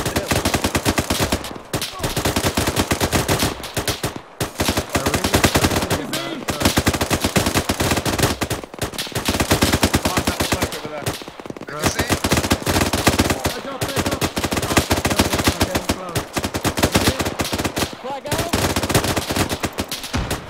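A light machine gun in the military video game Arma III fires long, rapid bursts with only brief gaps, loud and dense almost throughout.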